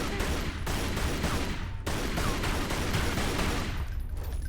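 Gunfire in a Lara Croft video game, rapid bursts of loud close shots in a dense fusillade with brief gaps between volleys.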